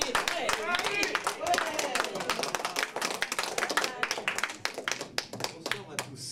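An audience claps for a performer at an evening show, dense steady applause throughout with a voice speaking over it.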